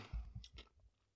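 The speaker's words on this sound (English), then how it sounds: "Maybe I should have finished crunching my ice before I talk." Ice being crunched between the teeth, heard as a few close, rough crunches in quick succession that fade into softer chewing.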